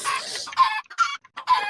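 A chicken in the Minecraft video game gives a quick run of clucks in several close bursts, loud and clear with no talking.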